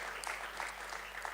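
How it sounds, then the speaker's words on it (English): An audience at a film festival live event claps for a co-founder, a brief, fairly faint patter of applause with no speech over it. "Please give him a round of applause."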